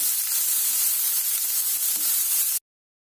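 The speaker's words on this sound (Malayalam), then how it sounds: "ആവശ്യത്തിന് കുറച്ച് ഉപ്പിട്ടിട്ട് വഴറ്റുക." Onions sauté with salt in a hot pan for chicken cutlets, giving a steady, bright sizzling hiss that stops abruptly near the end.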